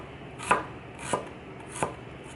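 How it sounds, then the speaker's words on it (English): A knife cuts thin slices for a ginger soy sauce fish dish, making three distinct crisp chops against a board at a steady, unhurried pace, close and clear with no talking. "So what you do is you cut it in very thin slices."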